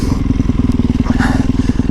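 A dual sport motorcycle pulling hard on the throttle, a loud, close engine drone with a rapid, even pulsing firing rhythm, sustained throughout with faint rumble from the ride.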